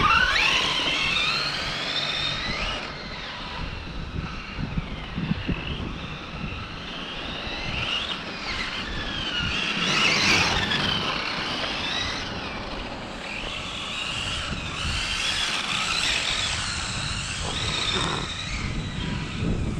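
A Hobao Extreme VTE2 1/7-scale NASCAR drift car on 6S power whines and revs steadily for the whole stretch, its high-pitched motor note swelling and easing as it slides, with some wind noise mixed in.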